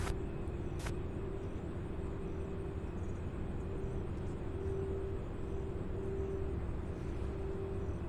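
A Boeing 737 lines up on runway 17 right at an airport, heard as a steady, distant engine rumble and hum with a sustained tone, and a couple of brief clicks early on.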